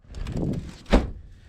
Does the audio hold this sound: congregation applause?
no